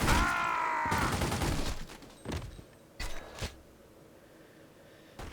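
Shots from a .45 pistol in the crime video game The Godfather: a loud opening burst, then three or four sharp separate reports that fade into quiet game ambience, with no speech.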